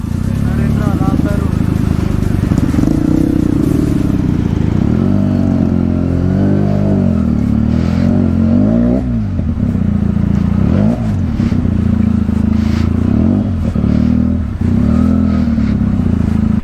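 Motorcycles at a biker meetup in Hyderabad, including Yamaha R15s, a Honda CBR, Husqvarnas, a Royal Enfield Continental and Bajaj Dominars, their engines rumbling and revving loud and close while a voice talks over them.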